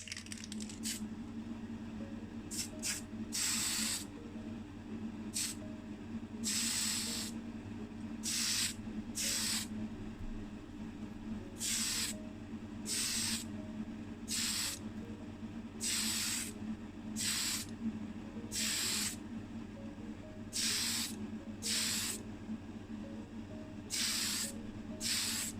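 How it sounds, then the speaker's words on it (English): Tamiya fine surface primer in white sprayed from a can in short bursts onto a small die-cast Nissan Bluebird Turbo model, close hissing puffs separated by pauses over a low background hum. "preparing the surface for some Tamiya fine surface primer in white"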